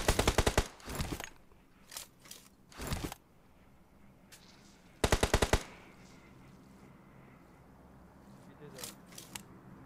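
Rapid automatic gunfire from a mobile shooter video game comes in several loud close bursts, with quieter single shots and a background of game ambience in between; a voice speaks briefly.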